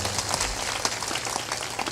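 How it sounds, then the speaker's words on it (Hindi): A sermon audience claps steadily to honour guests, a dense, even wash of many hands that carries on without a break. "ताली बजाकर इनका सम्मान"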